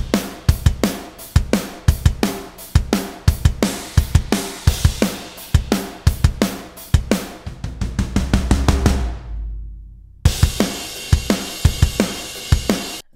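Pop punk drum kit playing a driving full-time beat with steady kick and snare hits, then a building fill into a sudden stop and a shift to a halftime groove with washy cymbals, loud and close, no talk.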